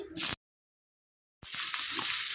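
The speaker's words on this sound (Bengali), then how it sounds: "তো তেলটা গরম হয়ে গেছে এখন আলু দিয়ে দিচ্ছি" Potato pieces go into hot white cooking oil and set off a loud, bright sizzle. A short burst comes first, then a gap of silence, then a steady frying hiss with faint stirring.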